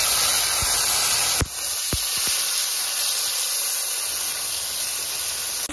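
Ginger-cumin paste hits hot oil already holding a reddened panch phoron tempering, giving a loud, steady sizzle that hisses on without a break, with a few faint clinks of utensils.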